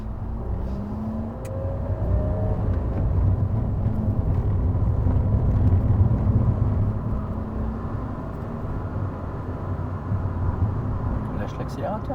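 A car engine runs at a steady low idle and cruise during a driving lesson, a continuous rumble with slight swells in level and no sharp revving, heard alone without talk.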